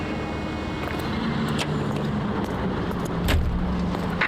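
Car driven through city streets in the L.A. Noire remaster, with a steady engine hum and road rumble throughout, rising slightly near the end, plus a few faint clicks above it.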